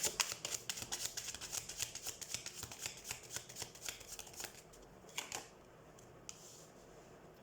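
Tarot cards are shuffled close up in a soft, rapid riffling patter that thins out toward the end, followed by a few isolated flicks as cards are drawn, quiet and without talk.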